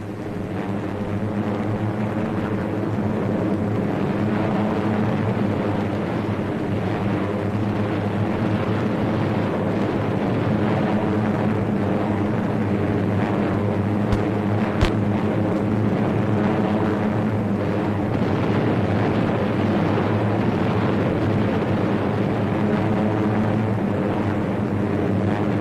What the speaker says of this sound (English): 7th Air Force planes struck against Kagoshima